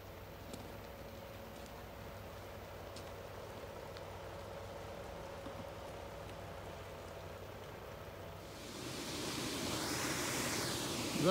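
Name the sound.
light rain falling outdoors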